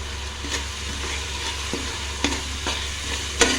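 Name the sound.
stirring garam masala into cooking coconut milk rice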